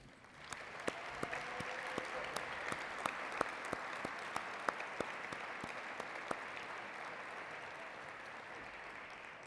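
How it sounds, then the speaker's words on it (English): Steady audience applause fills a dinner hall at an annual greenway gathering, with a dense wash of clapping and a few sharper individual claps standing out, sustained and even throughout. "I would like you all to join me in giving a big round of applause"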